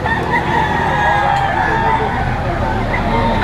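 A rooster crows at the Lipa Auction Market amid steady crowd babble, an auctioneer talking and nearby traffic, the crow blending into the busy, loud market noise throughout.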